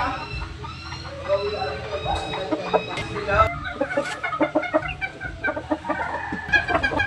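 Gamefowl roosters of a Bluefish McLean hatch cluck and call around a gameyard, with several birds layered at varying distances and brief crowing phrases over constant background chatter and someone speaking.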